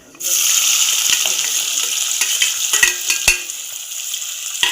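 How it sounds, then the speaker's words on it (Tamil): Sliced onion sizzles steadily in hot oil with fennel, cloves and cinnamon while cooking ghee rice, a close continuous fry that starts abruptly, with occasional stirring clinks and pops over the hiss. "இது நல்லா ஃப்ரை ஆகட்டும்."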